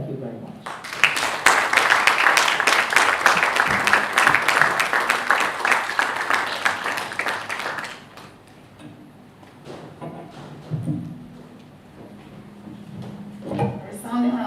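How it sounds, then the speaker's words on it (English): An audience at an International Women's Day event breaks into dense, loud applause for about seven seconds, then it fades out and a quieter stretch with low rumbles and faint voices follows. "Resounding round of applause for Mrs."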